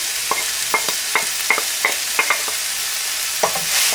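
Carrots stirred into broth in a pan for Turkish gözleme filling, a series of short scraping clicks from the spoon at an uneven rhythm against a soft background hiss.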